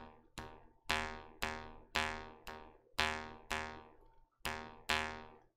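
An Indonesian bamboo jaw harp (karinding) struck about nine times in a steady rhythm, each strike ringing out bright and buzzy before fading, with no talking.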